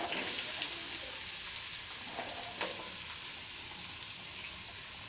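Chopped onions fry in a pan with cinnamon and cloves, giving a steady, even sizzling hiss throughout with a few faint ticks of stirring, no voices.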